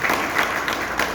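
Seminar crowd in a large hall claps together in a short, loud, dense burst of applause, with no voices.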